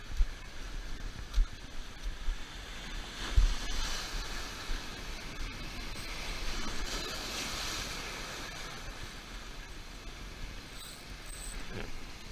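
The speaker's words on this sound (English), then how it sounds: "Big waves, big waves!" Big ocean waves breaking while fishing from shore rocks, a continuous roaring wash of surf with wind buffeting the microphone, no voices.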